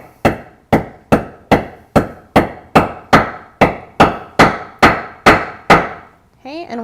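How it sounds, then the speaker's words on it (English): Thirteen steady, evenly spaced hammer blows setting a rivet into a leather bag strap, each a sharp close knock with a short decay, strong and regular at about two per second, followed by a brief rustle at the end. "then you can hammer a little bit harder."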